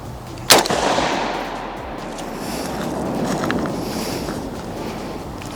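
One loud 5.56 rifle report fired at targets cracks early, then a long stretch of wind buffeting and rushing outdoor ambience follows, with a faint hint of another shot at the very end.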